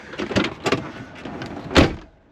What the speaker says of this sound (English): I got my door closed.